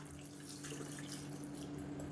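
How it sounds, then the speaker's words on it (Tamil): Water pours into a cooking pot of chow chow and tomato curry with chilli powder and salt, a steady running splash of moderate loudness that continues alone for about two seconds. "இப்போ தண்ணி சேர்த்துக்கலாம்."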